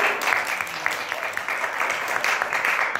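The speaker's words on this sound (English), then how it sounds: "Let's give her a round of applause." An audience at a magic show gives a volunteer a round of applause, a steady moderate patter of many hands clapping that continues for a few seconds without talk.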